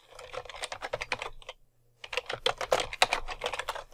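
Close, crisp clatter of fingers typing on a computer keyboard, a quick run of keystrokes, a brief pause near the halfway point, then another fast burst, with no talking.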